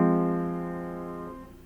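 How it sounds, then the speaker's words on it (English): A long sustained note held down on a keyboard during a music lesson, ringing steadily with rich overtones and slowly fading before the tone shifts near the end, with no voices. "I'm holding them down and making them into long sounds like this"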